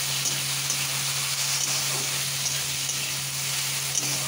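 Potatoes fry in a pan with a little turmeric and chilli, giving a steady close sizzle with a constant low hum underneath and no talking.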